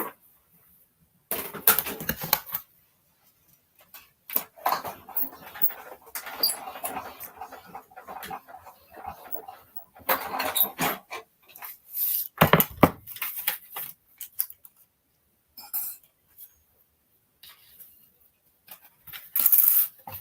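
Paper card-making pieces for a Stampin' Up Merriest Trees project being cut out, giving intermittent rasping snips and rubbing bursts with quiet pauses between, close and moderately loud, no talking.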